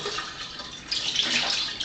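Water streaming from a water ionizer's spout into a drinking container, a soft steady rush that swells a little louder partway through and keeps going.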